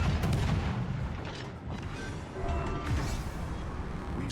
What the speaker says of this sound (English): And with those final few salvos, Beast gets the elimination on the enemy CV